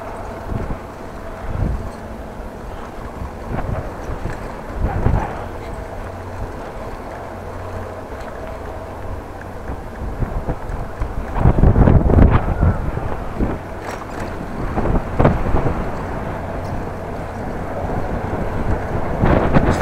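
Steady headwind buffets the microphone during a bike ride through open country near Groningen, a continuous low rumble with gusty swells that grow heavier and louder partway through.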